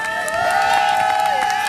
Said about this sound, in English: Round of applause, please, for Police Chief Craig.